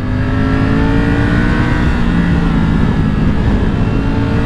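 A Triumph Tracer 9 GT or Tiger 900 motorcycle engine accelerating hard on a road ride, a loud, continuous, close-up roar with rising engine pitch and steady wind rush, with no talk.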